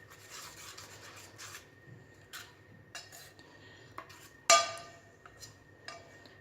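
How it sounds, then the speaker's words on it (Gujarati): A spoon mixes ragi rava uttapam batter, seasoned with a pinch of asafoetida, in a bowl, making soft scraping strokes and occasional metallic clinks, with one sharper knock against the rim. "બરાબર મિક્સ કરી દઈશું।"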